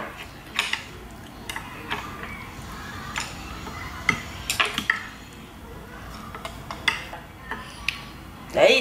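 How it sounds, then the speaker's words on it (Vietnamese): Utensils clinking and scraping against a bowl as dry noodles are tossed together, a quiet run of irregular taps and clacks at close range with no talk. "Bây giờ trộn cái phần mì để lên cho nó đều nha."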